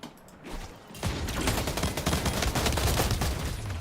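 Shotguns firing in the video game Splitgate, a dense, loud volley of rapid overlapping blasts that starts after a short quiet moment and keeps going throughout.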